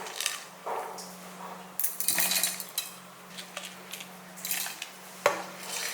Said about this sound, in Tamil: இப்போ அதை எடுத்து ஒரு மிக்சி ஜாருக்கு மாற்றிக்கலாம்